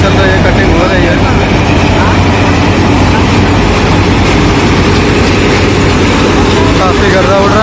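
A combine harvester cutting paddy roars loudly and steadily up close, its heavy engine drone and mechanical rattle unbroken throughout.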